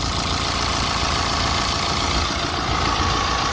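A BMW/Mini N47 diesel engine with a new timing chain, pulley and belt idles steadily close by, a continuous throbbing mechanical hum with no speech over it.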